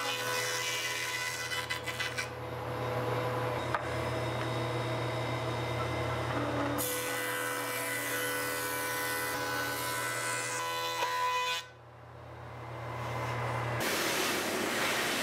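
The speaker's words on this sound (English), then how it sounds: "get these two boards for the drop cap cleaned up in the planer" Two wooden boards for a guitar drop cap fed through a thickness planer, a loud sustained machine drone with a low hum, changing pitch as each board passes and briefly dipping near the end.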